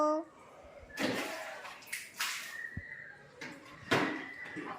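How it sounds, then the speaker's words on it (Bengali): Water poured over a man's feet at home splashes in several short bursts, close by, with voices talking between and over the pours. "বাপের পায়ে একটু জল দিয়ে দাও তো"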